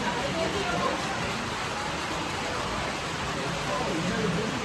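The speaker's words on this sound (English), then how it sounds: "It's raining like 10 times harder than it was while we were walking" Heavy rain pours steadily in Hawaii, a dense, continuous hiss of water that fills the background without pause, close and loud, with no clear speech standing out.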